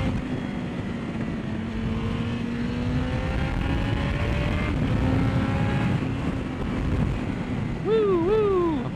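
Yamaha FZ1 motorcycle engine droning steadily up close, its pitch sliding as it downshifts two gears, with a sharp rev blip near the end on a road ride.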